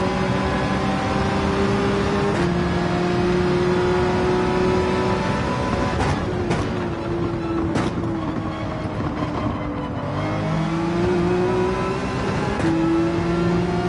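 Racing car engines in Gran Turismo 7 during an online race, a loud, steady drone whose pitch dips and climbs as the throttle is lifted and reapplied, with short bursts of other cars passing close by.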